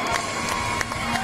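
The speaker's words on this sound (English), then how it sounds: "The crowd is on their feet congratulating both these guys" Crowd at an MMA event on its feet cheering and applauding after a hard-fought bout, a loud continuous roar with scattered claps and shouts through the whole moment.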